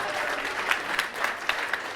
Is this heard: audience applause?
yes